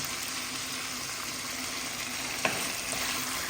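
Onion and garlic sauté in a hot pan in a sautéed chicken with cabbage dish, a steady, even sizzling hiss close by with one brief clink partway through.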